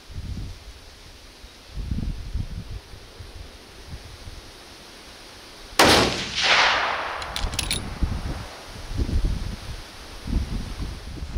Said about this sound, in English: let's go ahead and let one rip here and see if we're close to the bullseye on this shot